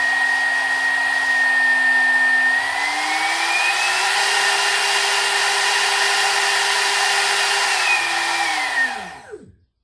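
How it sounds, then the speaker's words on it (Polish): A high-pitched CNC 3040 milling spindle motor driven by an inverter whines steadily, its pitch rising partway through, holding, then dropping as it spins down to silence. "widzicie, falownik się uruchomił."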